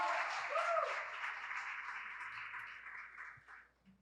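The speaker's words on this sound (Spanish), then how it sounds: "un aplauso por la vida de Josefina y Dora." Applause from the audience at a women's event, a soft, somewhat distant patter of clapping that swells briefly and fades out within a few seconds.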